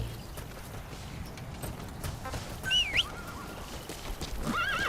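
A horse in the video game Metal Gear Solid V: The Phantom Pain whinnies sharply midway through, followed by a second whinny near the end, over steady clip-clop hooves and a low rumbling background.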